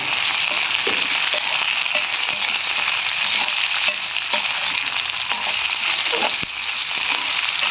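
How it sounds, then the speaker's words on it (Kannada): Chopped onion with a few curry leaves fries in hot oil in a pan, making a loud, dense and unbroken sizzle with occasional faint stirring taps, heard up close. "ಸ್ವಲ್ಪ ಈರುಳ್ಳಿ ಬಿಸಿ ಆಗಲಿ"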